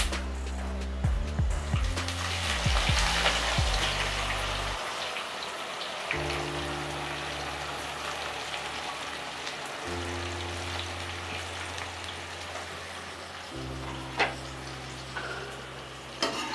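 Finely chopped onion fries for chicken biryani with a steady, crackling sizzle like light rain, running on with faint ticks over a low humming background tone.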